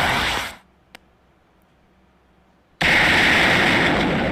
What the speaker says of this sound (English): A gunshot? No, it's cannon fire.